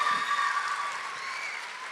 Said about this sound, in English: So I definitely think she deserves another huge round of applause just for that feat in